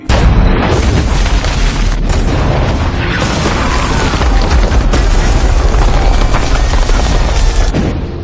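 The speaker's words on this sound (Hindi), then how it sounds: "महमद के तोपखाने के लोग लगातार कॉन्स्टेंटिनोपल की दीवारों पर गोले बरसा रहे थे।" Cannon fire bombards the walls of Constantinople in a dense, continuous roar of heavy booms and rumbling blasts, very loud and close for the whole stretch.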